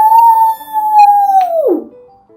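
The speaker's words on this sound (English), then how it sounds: "heard the loud howl of a coyote" A coyote lets out a loud, close, sustained howl that holds a steady pitch and then slides downward into a short wavering drop at the end, heard alone without speech.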